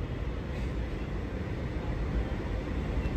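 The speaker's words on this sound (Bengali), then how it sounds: "আর এদিক থেকে এক্সপ্রেস ঢুকছে" An express train approaching along a railway line produces a heavy, steady low rumble of wheels and engine. Nobody speaks over it.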